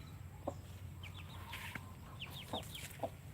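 Texas-breed chickens, survivors in a storm-damaged coop, give short soft clucks at intervals over steady low background noise, with a few higher calls scattered through.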